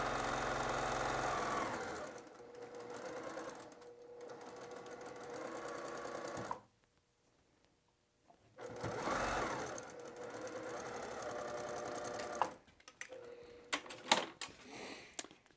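A sewing machine stitches a narrow seam on a fabric bag in rapid, even bursts. It runs steadily, pauses briefly into near silence, then starts again for shorter runs.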